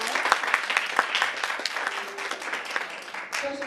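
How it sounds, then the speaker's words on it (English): Audience clapping for the participants of a 1st through 8th grade spelling bee, a dense steady patter of many hands in a hall that runs the full length with slight swells. "Let's give everyone a round of applause"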